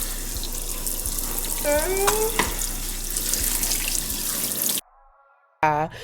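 Water runs steadily from a tap while bleach is rinsed out of a wig, a continuous splashing stream with a brief squeaky sound, then cutting off for a moment before resuming.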